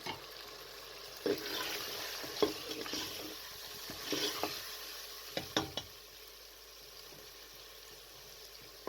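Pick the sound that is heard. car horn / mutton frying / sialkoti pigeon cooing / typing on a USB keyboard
mutton frying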